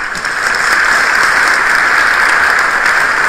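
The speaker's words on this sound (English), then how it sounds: "another warm round of applause for all the co-chairs, outgoing, continuing, and incoming" Steady, dense applause from a large audience closing a senior-level international meeting, loud and continuous without a break, no voices over it.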